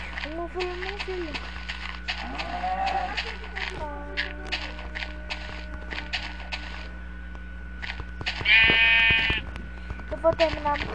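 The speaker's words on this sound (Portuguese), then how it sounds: "Uma ovelha." Sheep bleating in the video game Minecraft, a few wavering bleats heard over game background sounds with a louder, clearer bleat near the end.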